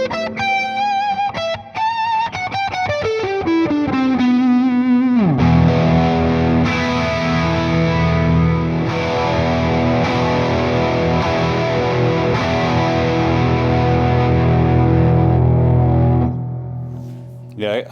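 An electric guitar rings through two amplifiers in a rig, a few notes sliding down into one big sustained distorted chord that holds loud for about ten seconds before fading out.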